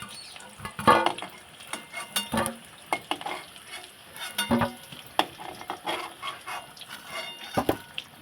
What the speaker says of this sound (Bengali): বিরিয়ানি আলুগুলো লাল লাল করে ভালো করে ভাজা হয়ে গেছে